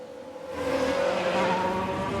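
An F1 Manager 22 race car spinning out: a loud engine whine rises sharply and is joined by tire squeal and rushing noise, with no speech.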